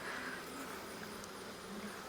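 Honey bees crawl over brood comb inside an open hive, giving a steady, close, even buzzing hum that fills the whole moment without any voices.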